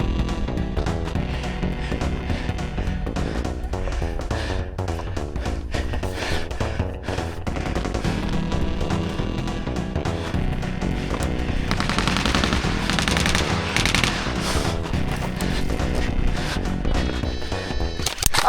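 Airsoft guns fire during an outdoor larp game, with rapid, dense bursts of sharp pops and clatter running continuously at moderate loudness, sometimes thicker and more layered.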